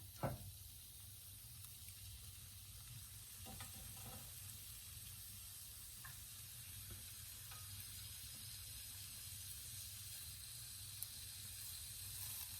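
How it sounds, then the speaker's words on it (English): Bourbon bacon BBQ chicken kebabs sizzle on a hot grill in a steady, faint hiss, with a few soft clicks and taps over the continuous frying noise. "Listen to that sizzle."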